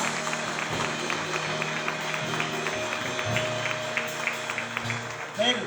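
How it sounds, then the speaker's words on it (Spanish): A church congregation claps steadily in a sustained round of applause, with voices and murmuring mixed underneath throughout. "Vamos, dale un aplauso al Señor."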